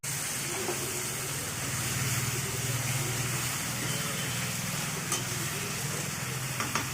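Chili chicken with capsicum stirred in a frying pan, continuous loud sizzling with a low background hum and occasional spatula clinks, no speech.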